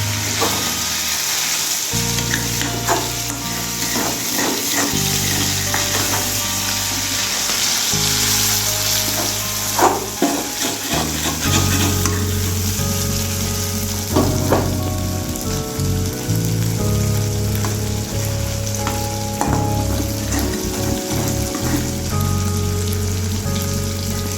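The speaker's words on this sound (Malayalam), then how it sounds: "പിന്നെ ഇതിന് ഒന്നുകൂടെ എണ്ണയിലിട്ട് ഒരു കുറച്ച് സമയം കൂടെ കിടക്കുമ്പോഴത്തേനും ഫ്രൈ ആവുമോ" Prawns crackling loudly in hot oil while being turned over, a constant rain-like sizzle punctuated by sharper clicks and scrapes from the utensil, close and unaccompanied by any voice.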